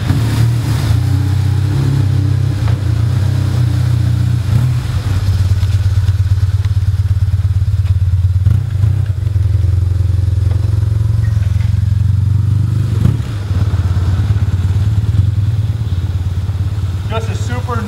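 Motorcycle engine of a 2001 BMW R1150GS being ridden, with a loud, steady low rumble that rises and falls as it accelerates, close and continuous, plus wind and some clatter.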